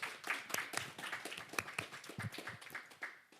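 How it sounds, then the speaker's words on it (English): An audience at a kids' mini conference on comics and graphic novels applauds its panelists, with a burst of quick, overlapping claps that sound fairly faint and distant and fade out after a few seconds. "Let's give them a round of applause."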